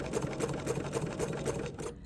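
A sewing machine over-sews a quilt with fine Cerulean thread, running in a steady rapid stitching rhythm with evenly spaced needle beats, close and continuous, stopping abruptly at the end.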